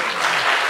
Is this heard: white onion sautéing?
no